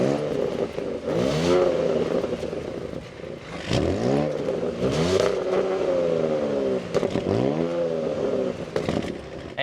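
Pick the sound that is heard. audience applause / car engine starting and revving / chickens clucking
car engine starting and revving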